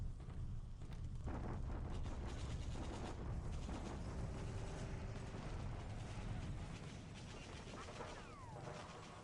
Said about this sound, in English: That's just the tanks attacking.